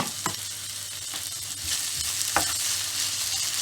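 Butter sizzles and crackles steadily in a hot pan while Cajun prawns and onion slices cook, with a few sharp utensil clinks against the pan and a continuous bright hiss underneath.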